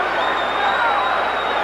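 A boxing arena crowd roars and cheers as Evander Holyfield lands a right hand lead against Riddick Bowe, a dense sustained wall of cheering with a commentator talking over it.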